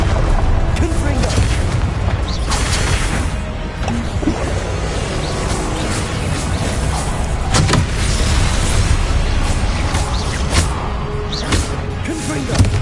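Repeated booming Confringo fire-spell blasts in the video game Hogwarts Legacy on PS5, loud and dense amid ongoing combat noise and a low rumble, with a voice shouting spell names over the fight.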